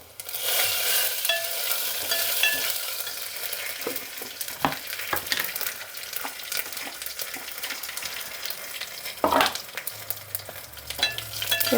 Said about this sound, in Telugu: ఇప్పుడు కలుపుకుందాము